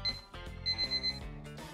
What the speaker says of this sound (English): I unplugged the clock, but it is still ringing.